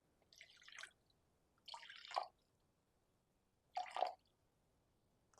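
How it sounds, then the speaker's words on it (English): Water poured into a jar on a kitchen scale for feeding a sourdough starter, three short splashing bursts separated by pauses, close and fairly soft with no talking. "now I'm going to put in 85 grams of water into this jar."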